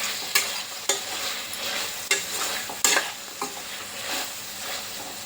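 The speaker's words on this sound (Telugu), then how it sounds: "మధ్య మధ్యలో ఈ విధంగా కలుపుకోవాలండి" A chicken and broad bean curry is stirred in a pan over medium flame, with a steady low simmer and about half a dozen sharp spoon scrapes at uneven intervals, close and clear, with no voices.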